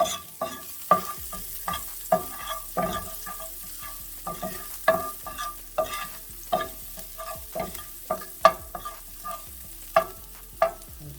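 Chopped garlic, about three cloves, sizzling in a little hot oil in a pan over medium-high heat, with rhythmic scraping and stirring strokes repeating about once a second over a steady crackle, no voices.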